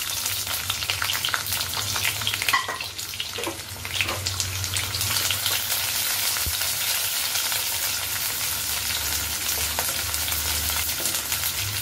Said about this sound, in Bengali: কিছুটা পেঁয়াজ রেখে দিয়েছিলাম, পেঁয়াজটা একটু হালকা ভেজে নেব।